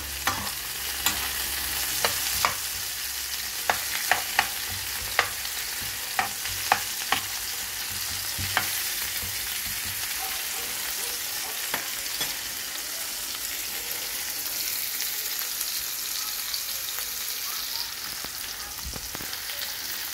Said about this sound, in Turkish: kavurmaya devam edeceğiz. Hemen şurada bir kaşık yardımıyla